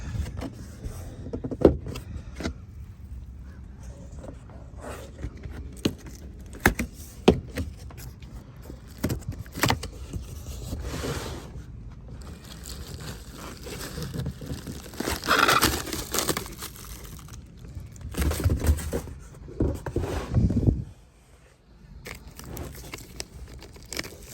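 King shock absorbers for a 2022 Toyota Tundra come out of their packaging, with irregular crinkling, rustling and thumping of boxes and wrap up close, in uneven bursts and no talk.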